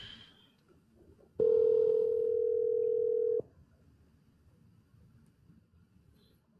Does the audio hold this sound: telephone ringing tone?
yes